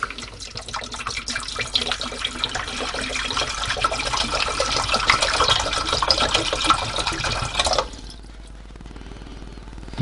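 Demineralised water pours steadily into a 2-litre plastic tub for about eight seconds, a loud, close liquid splash that stops abruptly, leaving quiet room tone.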